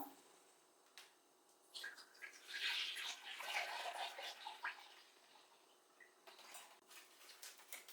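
Milk is poured straight into a container as a faint, quiet gurgling splash that swells and fades over several seconds, with a few soft knocks around it and no talking.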